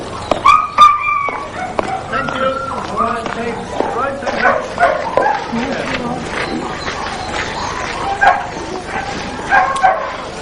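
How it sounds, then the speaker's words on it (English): Several greyhounds bark, yip and whimper before a race at an English greyhound racing stadium, a busy, overlapping run of close barks throughout with people talking underneath. "These dogs are greyhounds, and greyhound racing is very popular in England."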